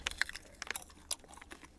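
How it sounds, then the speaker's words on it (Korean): Someone bites into crunchy vacuum-fried whole jujubes with a dalgona flavour, making a quick run of faint, crisp crackling crunches and chewing clicks close up, with no talk. "대추를 통째로 이 진공 저온 방식으로 해서 튀겼대요. 그래가지고 되게 바삭바삭하고"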